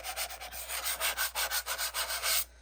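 Pages of a new coloring book are rubbed and flipped, giving about fifteen quick, even papery swishes in a steady rhythm, close and fairly loud, ending abruptly in near silence.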